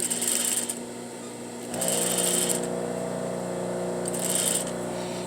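A sewing machine stitches French bias binding in bursts: a steady mechanical whir that starts, pauses, and starts again, close and even, with no voices.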